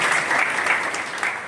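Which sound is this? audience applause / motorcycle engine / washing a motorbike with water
audience applause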